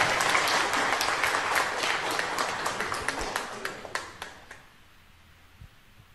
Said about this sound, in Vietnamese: Xin cùng đoàn một tràng pháo tay thật lớn để chúc mừng cho ông bà cổ và quan chức.